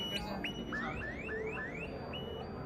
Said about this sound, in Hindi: ये आप देख सकते हैं कि ये अलार्म बजना स्टार्ट हो चुका है